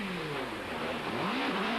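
The Roman hillclimb race car, a small, nimble unit driven by Ray Rowan at Shelsley Walsh in 1989, accelerates hard with a rising, revving engine note. The note dips and climbs again through a gear change, loud and close.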